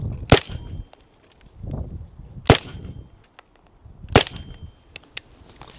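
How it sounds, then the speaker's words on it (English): Three sharp gunshots ring out at close range, about 5 yards from a target, spaced roughly two seconds apart, each loud crack followed by a short fading tail and quiet gaps between. "I wanted to take shots at about 5 yards from the target"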